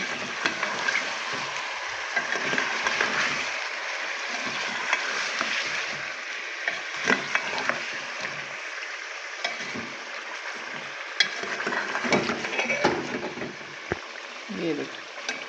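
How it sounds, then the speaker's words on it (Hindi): Ginger and garlic fry for nihari while a spoon stirs them, giving a continuous hiss and sizzle with scraping strokes; a voice speaks over it at times. "अब थोड़ी सी करेंगे अदरक लहसुन की भुनाई।"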